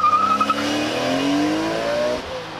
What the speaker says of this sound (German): Was aber auffällt, ist, wie geil eigentlich der G82 Sound ist.